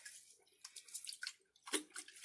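Aquarium canister filter media being squeezed in water gives off irregular wet splashes, trickles and drips, close and fairly quiet, with a louder slosh near the end.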